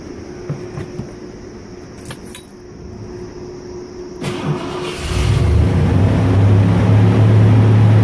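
A Ford F-150 pickup truck engine with a small vacuum leak cranks and catches, then settles into a steady, loud rumble that swells as it revs, up close with no talking.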